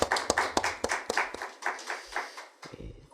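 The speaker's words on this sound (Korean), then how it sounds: "귀한 찬양 인도한 우리 찬양단 위하여서 격려의 박수하도록 하겠습니다." Church congregation clapping for the worship team at a small prayer meeting, a sparse sequence of distinct close hand claps in an uneven rhythm, thinning out toward the end.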